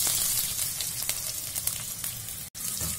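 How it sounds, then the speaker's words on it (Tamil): Onion sizzles steadily in hot oil while Kerala-style mixed vegetable theeyal is cooked in a home kitchen. The frying crackle is continuous and close, with no talking. "எண்ணெய் காஞ்சிடுச்சு. இப்ப வெங்காயத்தை சேர்த்துக்கலாம்."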